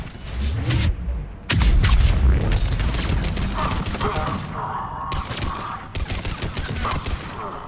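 Assault rifle fire with incendiary ammo in the video game Mass Effect 3, with rapid bursts of close, loud shots, a booming hit, and stretches of steady automatic fire broken by short pauses.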